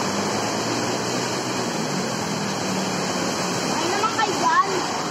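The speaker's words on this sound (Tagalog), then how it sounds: "Sobrang lakas ng ulan." Heavy rain pours steadily by a river, a dense, even roar of falling water filling the whole stretch, with a few brief louder splashes near the end.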